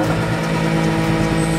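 A Porsche engine revs hard and holds on launch control before a start, a loud, close, steady roar with a sustained drone.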